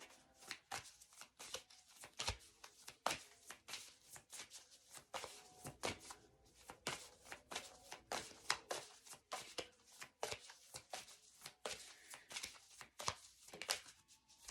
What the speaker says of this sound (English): Y'all gonna make me shuffle.